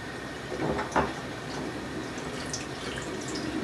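A shaving cream can being rinsed in water, with steady sloshing and running water and a couple of brief clunks near the start, close and continuous throughout.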